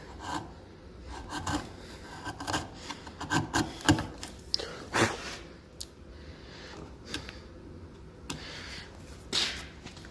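A chisel pared through timber to cut a door hinge recess, giving a series of close, rasping scrapes and short cuts in uneven bursts, moderately quiet and without talk.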